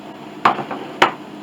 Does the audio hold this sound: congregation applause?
no